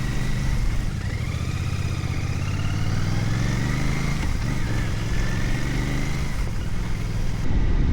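A Royal Enfield Bear 650 motorcycle being ridden, its engine droning loudly and steadily with gentle rises in pitch, together with constant wind rush and no speech.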